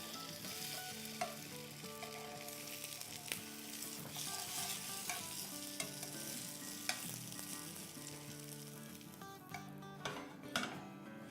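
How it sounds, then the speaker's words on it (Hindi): A kids' breakfast snack fries in hot oil, sizzling steadily and close throughout, with occasional light clinks of a utensil against the pan. "हमें अपना मनपसंद कलर करना है, अच्छे से तल लेना है।"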